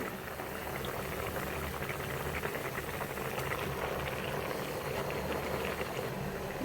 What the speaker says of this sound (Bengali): আর এদিকে ডাটাটাও সিদ্ধ হচ্ছে